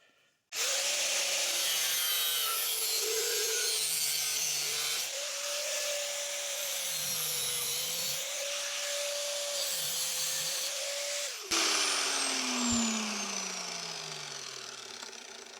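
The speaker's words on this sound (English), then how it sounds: "So I'm just going to use a little cutting disc on an angle grinder, the thin one." A thin cutting disc on an angle grinder cuts through a steel knife blade, making a loud, continuous close-up screech with wavering pitch for about eleven seconds, then a brief break and a renewed burst that winds down as the disc spins down.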